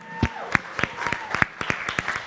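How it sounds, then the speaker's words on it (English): Capital Family Church congregation clapping at an evening family service, a loose scattering of individual claps, fairly close, with a faint tonal hum in the background. "Can you give yourselves a round of applause for being here tonight?"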